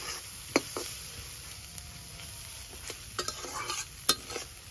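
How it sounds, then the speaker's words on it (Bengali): Fish roe frying in a pan while a spoon stirs it, with a soft continuous sizzle, occasional sharp scrape and clink accents, and small patters, close and fairly quiet. "আমি অনবরত নাড়তে থাকবো প্রায় 10 মিনিটের মতো।"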